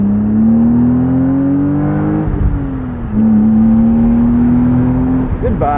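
1999 BMW Z3 M Roadster engine accelerating hard from the cabin, a loud rising drone through two gears with a brief dip at a shift, then pulling again, steady and close.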